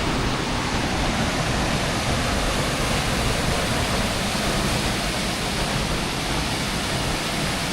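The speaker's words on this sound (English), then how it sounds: "Another little waterfall coming down over there." Small waterfall at Rock Run Falls, a loud, continuous broadband rush of falling water that stays steady and close throughout with no other sounds.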